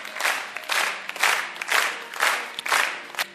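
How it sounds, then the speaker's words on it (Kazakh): Wedding guests at a restaurant celebration clap in rhythmic bursts, roughly six waves of applause rising and fading in a regular pulse, fairly close, with no talk over it. "қуаттап, шапалақ ұрып отырайық"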